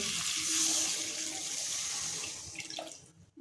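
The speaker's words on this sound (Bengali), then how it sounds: "এরপর আমি দিয়ে দেবো গরম জল।" Hot water pours steadily into a pan of spiced potato curry for a fish curry, a continuous gushing splash that tapers off near the end.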